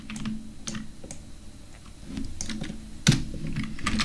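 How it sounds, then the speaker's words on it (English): Computer keyboard keys, Control and the arrow keys, clicked in a Photoshop session: a loose series of close, crisp taps with one sharper press near the end, no voice. "I just use Control and my arrow keys"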